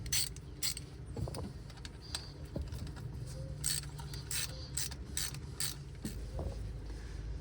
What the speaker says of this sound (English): So let's get this tightened in here and then we will torque it down